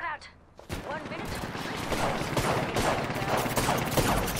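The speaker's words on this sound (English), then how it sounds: "Getting shot at." Rapid gunfire in the battle royale game Apex Legends, dense bursts of shots and impacts crackling almost without pause after a brief quieter opening, loud and close, mixed with game voice lines.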